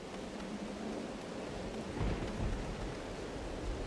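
A thunderstorm in the Hades II video game, a steady wash of rain-like noise with a deep rumble of thunder swelling around the middle, dense and continuous throughout with no speech.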